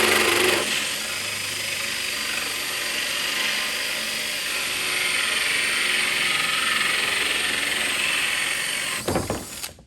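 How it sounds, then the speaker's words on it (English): A 1.5-inch hole saw on a power drill cuts through a counter, producing a steady, loud whirring grind that holds for several seconds before the motor winds down and stops abruptly at the end. "you set up your hole saw and you go through"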